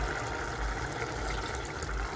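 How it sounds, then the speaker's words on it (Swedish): Broth poured into a simmering cooking pot gives a continuous, fairly soft liquid rush and gurgle, steady throughout with no talking. "Vi häller i lite till buljong."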